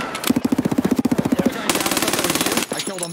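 Rapid machine-gun barrage in Escape from Tarkov, a fast, evenly spaced string of loud close shots that flows into a denser second burst before cutting off.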